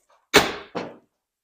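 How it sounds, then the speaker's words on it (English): A door being fitted onto a Polaris RZR Pro-R two-seat vault enclosure lands with two close, solid thuds: a loud slam followed a moment later by a softer knock, with nothing else around them. "Because now I will put the door on."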